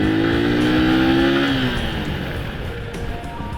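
Rusi Macho 125 motorcycle rolling at about 30 on a test ride, its engine note falling steadily as the drum brakes slow it, with road and tire noise continuing underneath; loud and close throughout.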